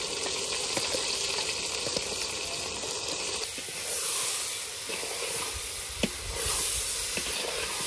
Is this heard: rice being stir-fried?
yes